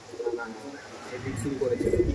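Andhra Madras pigeons, including a female, give soft, low coos in a short burst that grows fuller toward the end, close by, with faint voices in the background.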